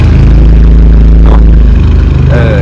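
A modified Mercedes C250 AMG W204 engine runs close by with a loud, steady, deep rumble that holds throughout, with a faint voice in the background.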